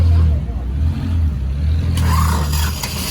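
A vehicle engine with a broken exhaust pipe gives a loud, steady low rumble throughout, with a sharper scraping burst near the end and voices talking over it.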